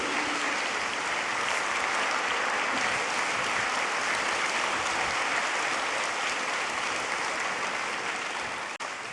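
Sustained, dense applause from a large festival audience in Harrogate welcoming J.K. Rowling, an even roar of many hands that holds steady and loud for nine seconds.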